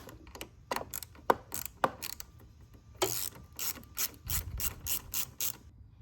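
Ratchet with a 10 mm socket loosening the battery terminal on a 2021 GMC Sierra 1500 Duramax 3.0L, close rapid clicking in irregular bursts with short pauses, no talking.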